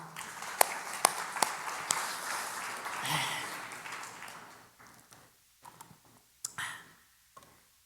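A church congregation claps, a burst of scattered, sharp hand claps that fades after a few seconds into a few last isolated claps, moderately near.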